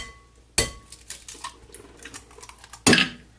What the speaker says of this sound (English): so you just give that a real quick stir